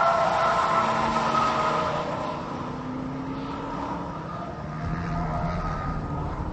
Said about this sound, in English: when you stand on it, it gets loud and revs real high